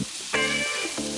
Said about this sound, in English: And I just want to let that sizzle,